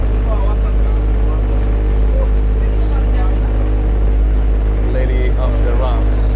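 Ferry engine drone on a boat crossing in Montenegro, a loud, constant low rumble with water rushing alongside and faint voices in the background.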